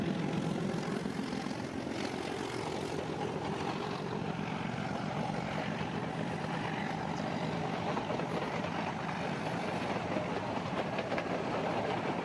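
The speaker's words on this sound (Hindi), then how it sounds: "मीटर गेज के साथ भी चंगी बड़ी लंबी ट्रेन है।" A long Indian metre gauge train hauled by an old but well-kept diesel locomotive rolls past at a steady, continuous rumble, moderately distant, with no voices over it.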